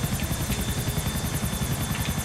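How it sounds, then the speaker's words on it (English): A helicopter in Grand Theft Auto IV thumps overhead with a fast, even rotor chop and a steady engine whine, loud and close for a couple of seconds with no voices. "I saw like six helicopters here."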